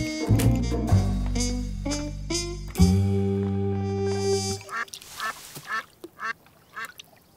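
Loud, nasal duck quacks repeat in quick bursts, then give way to softer splashing and rippling water with a few scattered quacks.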